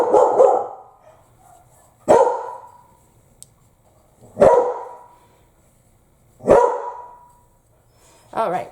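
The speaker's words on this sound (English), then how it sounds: "excuse my dogs, like some sort of offensive squirrel has probably made its way onto our property" Dogs bark outdoors at a property, five separate loud, sharp barks spaced about two seconds apart with quiet gaps in between.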